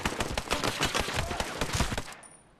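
Rapid bursts of gunfire from a modern military shooter, Ghost Recon Breakpoint, rattle loud and close in dense repeated shots for about two seconds, then cut off into a brief quiet tail.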